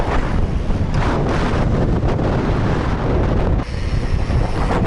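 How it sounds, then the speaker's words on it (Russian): Strong wind buffets the microphone in a continuous loud roar during a windy uphill bike ride, with gusts surging and briefly easing near the end; nobody speaks. "Офигеть, меня ветер просто в гору заталкивает"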